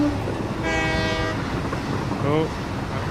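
A train whistle sounds in the Satisfactory video game: one long steady tonal blast and then a brief second toot, over a constant rumble of rolling train noise.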